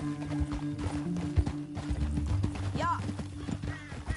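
A horse gallops in Red Dead Redemption 2, with rhythmic clip-clopping hoofbeats close by, a brief whinny partway through, and game music and voices underneath.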